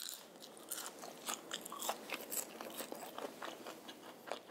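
Crisp french fries are bitten and chewed up close alongside cream-sauce chicken, with repeated sharp crunches in an irregular rhythm over a quiet background and no talking.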